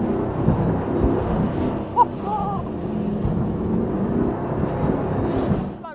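Twin engines of a Cigarette Marauder 50 SS powerboat, 2700 HP, running steadily during a sea trial: a continuous, fairly loud motor roar with a faint rising whine and rushing air, no speech.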